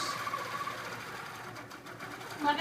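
A long arm quilting machine stitches binding onto a quilt, giving a steady, continuous mechanical hum and rapid needle chatter at close range, with no talking.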